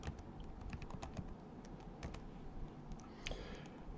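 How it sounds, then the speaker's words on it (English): Steady run of computer keyboard typing, arrow presses and backspace keys tapping repeatedly in quick, close clicks, fairly quiet and continuous with no talking. "I'm just going to hit my up arrow until I get to this. Then I'm going to backspace and enter data"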